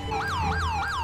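An ambulance siren in the video game GTA V, wailing loud and close in quick repeated rising-and-falling sweeps over a low engine hum, with no voices.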